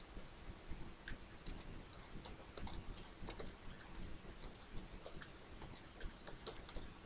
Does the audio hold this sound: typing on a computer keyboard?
yes